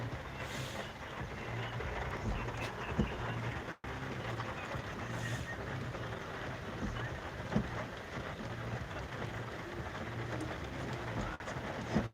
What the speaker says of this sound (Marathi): एवढा जोरदार पाऊस आहे